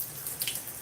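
Water runs from a tap during a curly hair wash-and-go routine, a steady soft hiss with faint splashing, heard alone at a modest level.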